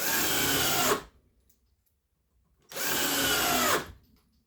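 A cordless drill driver spins up hard twice, driving screws into old pine wood, each whirring burst lasting about a second with a short silent gap between them.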